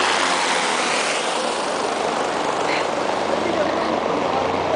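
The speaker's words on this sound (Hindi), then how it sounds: "यार है हमारा हेलीकॉप्टर, हम इसी पे आए थे।" A large helicopter near Panchtarni on the Amarnath route in the Himalayas gives off a close, steady roar of rotor and engine throughout, and people talk over the noise.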